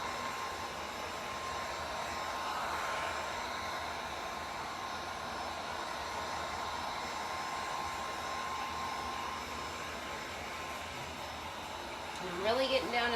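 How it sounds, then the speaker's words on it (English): A heat gun stripping paint from an old mirror gives a steady close blowing hiss that runs throughout with little change, and a brief voice is heard near the end. "You don't have to have the heat gun for this process."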